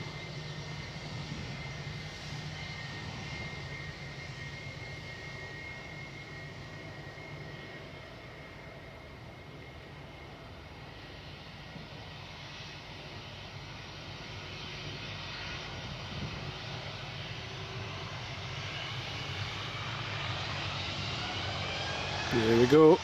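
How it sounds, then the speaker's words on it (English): British Airways jet airliner taking off at Glasgow Airport, a steady broadband engine roar heard from a distance that slowly swells louder toward the end. "British Airways takeoff."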